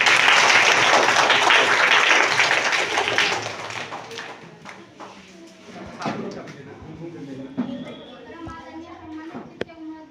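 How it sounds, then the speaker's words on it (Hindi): Loud, dense clapping from an audience at a school Teacher's Day event fills the first four seconds, then fades to a few scattered claps and taps while a voice speaks over the quieter room. "अंशु कुमारी के स्वागत के लिए जोरदार ताली।"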